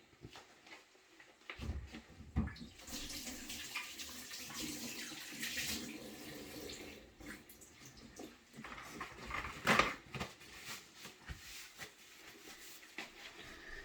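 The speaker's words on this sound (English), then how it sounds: "I am going to wash my hands." Hands being washed under a running kitchen tap before cooking, a steady broadband rush of water with small splashes and shifts as the hands move through the stream, fairly close and without talk.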